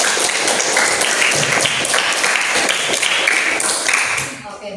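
Applause from a classroom of students for a group's presentation, a dense burst of clapping lasting several seconds before tapering off near the end, with some voices mixed in.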